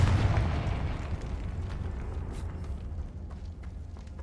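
A Confringo spell explosion in the game Hogwarts Legacy: a loud booming blast at the start that rumbles and slowly decays into a fading roar with scattered crackles.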